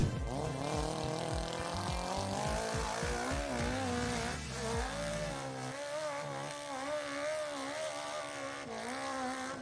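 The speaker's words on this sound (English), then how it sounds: "This guy has the skill and horsepower to somehow climb a near vertical hill like it's nothing." An engine roars continuously as a vehicle climbs a near-vertical hill, its pitch rising and wavering under heavy load for about ten seconds, loud and steady.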